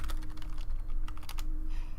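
Quick bursts of typing on a computer keyboard, a string of crisp clicks at close range with brief pauses, alone without talk.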